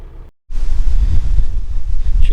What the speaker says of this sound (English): She's a bit windy.